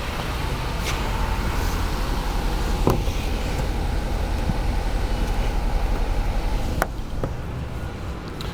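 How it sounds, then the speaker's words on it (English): A Jaguar XF 2.0L engine with a misfire is cranked with all ignition coils disconnected, giving a continuous mechanical whir and rumble with a few sharp clicks, loud and close, without catching. "I'm going to do my due diligence and crank it with all of the coils disconnected"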